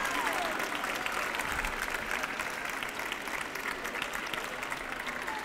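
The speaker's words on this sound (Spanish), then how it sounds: "fuerte el aplauso para Emilio" Sustained applause from a crowd at an architecture graduates' ceremony marking 25 years, steady and fairly distant, continuous throughout without clear breaks.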